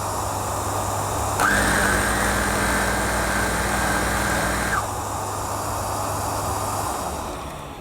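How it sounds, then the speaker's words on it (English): A Miele Revolution 500 vacuum cleaner motor switches on with a sudden steady high whine, running evenly and close for a few seconds before cutting off, over a constant background hum. "when I press the little button at the bottom, it should activate the motor"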